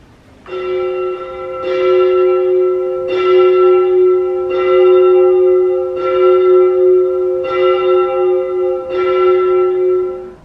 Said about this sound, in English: So you're actually allowed to ring the bell of the church.